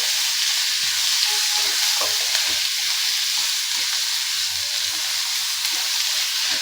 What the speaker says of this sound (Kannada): ಗೋಲ್ಡನ್ ಬ್ರೌನ್ ಬರೋ ತನಕ ಫ್ರೈ ಮಾಡ್ಕೊಳ್ಳಿ